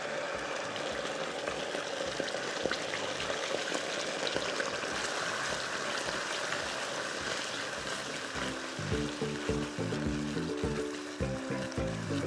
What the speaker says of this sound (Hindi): मैं इसके अंदर थोड़ा सा पानी डाल रही हूँ, just to stop that from happening